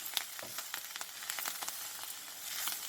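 Sliced onions sizzle in a pan of hot oil at the start of a kale curry, a soft, steady crackle with a few brighter pops, quiet and close with no voices.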